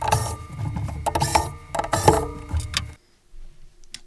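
Screws being worked out of a Columbia Data Products VP portable computer, giving close, busy mechanical clicking and whirring that stops abruptly near the end, leaving near silence.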